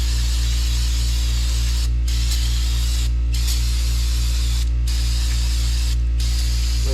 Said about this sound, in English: hitting it with brake cleaner, the liquid will trap if there was asbestos in that disc.